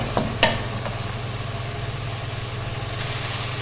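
Ginger and garlic fry in a pan with a steady crackling sizzle, opened by a couple of sharp clinks of a utensil against the pan.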